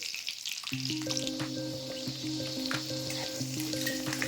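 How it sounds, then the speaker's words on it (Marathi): Garlic and cumin seeds fry in hot oil for a methi bhaji, a steady close sizzle running the whole time with a faint musical tone layered beneath. "पाव चमचे आणि लसूण टाकायचं आहे लसूण चांगला फ्राय होऊ द्यायचा आहे तेलामध्ये"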